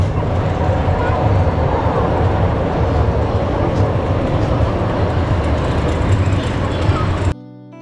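An amusement park train at Disney World rumbles steadily and loudly on a rainy morning, with a continuous rolling roar and people talking over it.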